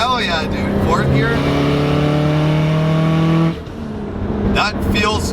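Subaru WRX STI engine pulls hard in fourth gear with a rising, loud exhaust note, backing off partway through, while excited voices shout over it.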